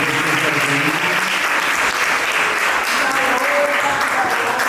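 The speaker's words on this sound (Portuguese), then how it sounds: "Palmas." Audience applause at a talk, sustained clapping from a room full of people, dense and steady for several seconds, with no other sound.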